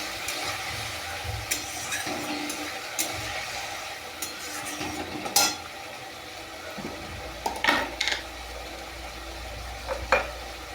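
Potato, pointed gourd and duck egg curry is stirred in a hot pan with turmeric, a steady sizzle running throughout under repeated scraping strokes of the spoon, close and fairly loud.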